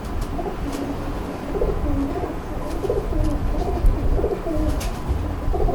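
Pet pigeons of pure Indian or Ferozpuri breeds coo in soft, repeated low calls through a steady background hum, with faint chirps and no voices.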